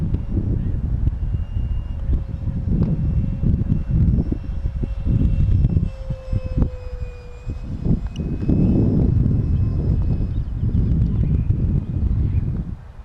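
A Hobbyking Sport Jet 70 electric ducted-fan RC jet flies at about a third to half power, its steady whine drifting with passes over loud, gusty wind rumble that sometimes nearly buries it.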